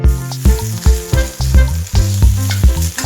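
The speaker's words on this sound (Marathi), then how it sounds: "कांदा आता छान भाजलेला आहे" Loud, close sizzling of onions frying in a pan, with repeated rhythmic scraping strokes of a spatula stirring them.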